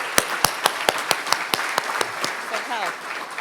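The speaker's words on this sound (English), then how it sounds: "round of applause, please" Audience applause at a Buena Park State of the City event comes as evenly spaced sharp claps, fairly close and moderately loud, fading slightly, with a voice briefly heard near the end.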